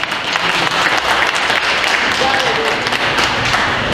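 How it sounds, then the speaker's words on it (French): Audience applause at a community gathering, a burst of clapping with some thumps and faint voices mixed in, fairly close and steady for several seconds. "On l'applaudit très fort."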